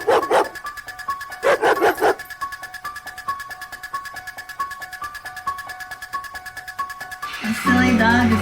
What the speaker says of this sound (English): The silly dog is probably barking at the turtle again.